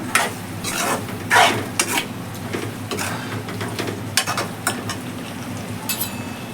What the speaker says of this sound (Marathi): आता हे चणे आहेत ना ते टाकते